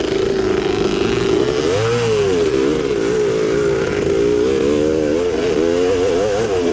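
A 1974 Yamaha MX360 two-stroke motocross bike races in a vintage cross-country event, its loud engine whining and rising and falling through gear changes and throttle bursts, close and continuous throughout.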